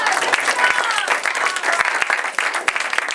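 An improv theater workshop group applauds with dense, lively clapping that continues throughout without a break.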